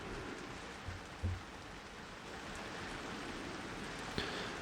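Rain falling on a studio roof, a faint, steady hiss of patter with a few soft knocks.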